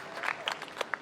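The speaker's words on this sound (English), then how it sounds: "Can we have another round of applause for her words of welcome and remembrance of this" Scattered audience clapping at an outdoor Hawaiian commemoration gathering, a brief patter of separate claps from a modest crowd, fairly faint and somewhat distant.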